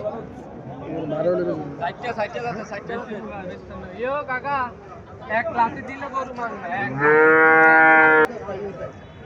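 Cattle at a Bangladeshi livestock market, a cow and a Sahiwal calf, low moos and a loud sustained bellow near the end, heard under steady crowd chatter and voices nearby.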